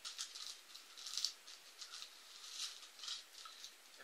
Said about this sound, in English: couple more water bags, just normal plastic bags they are.